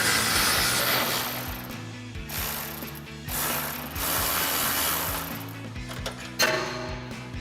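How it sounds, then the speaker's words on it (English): Regular hand ratchet backing out a 10mm exhaust hanger bolt inside the frame rail of a 2011-2016 Ford F-250 with the 6.2L V8, clicking steadily in close bursts through several strokes with brief pauses. "for that top bolt inside the frame rail, we're just gonna come in with a regular ratchet"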